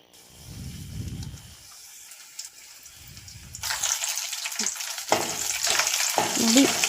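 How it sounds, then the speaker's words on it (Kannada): Chana dal and Byadagi chillies frying in oil in a pan, a steady close sizzle with occasional stirring scrapes and spatters that grows louder and brighter partway through. "ಬೇಳೆ ಎಲ್ಲ ಚೆನ್ನಾಗಿ ಫ್ರೈ ಆಗಿದೆ"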